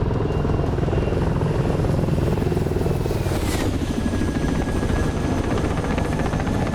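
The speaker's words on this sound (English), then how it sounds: "Maximum flight speed of K-50 helicopter." A K-50 helicopter makes a fast, low pass along the runway at an air show, its loud, steady rotor thump and engine whine filling the scene with a faint sweep as it passes close by.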